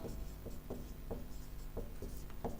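Pen writing on paper while a geometry proof about a trapezium is worked out, with soft scratchy strokes in short bursts at an irregular pace, close and quiet.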